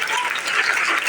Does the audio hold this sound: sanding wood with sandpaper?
no